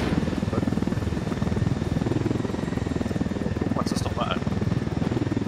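A helicopter in the video game Ghost Recon Wildlands spins up for takeoff, a loud steady rotor chop with engine drone throughout, with brief beeps near the end.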